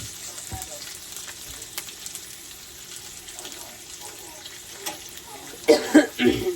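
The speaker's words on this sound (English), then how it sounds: "I'm just waiting on my bacon to cook. Ain't nothing like cooking bacon in a cast iron." Thick-cut bacon frying in a cast iron pan: a faint, steady sizzle under quiet room noise, with a few louder knocks and bumps near the end.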